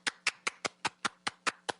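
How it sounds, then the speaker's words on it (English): Eight sharp hand claps in a quick, even rhythm over about two seconds, close and dry, a small homemade round of applause with no talking. "we should have some kind of applause that we play every Friday because we have survived another week"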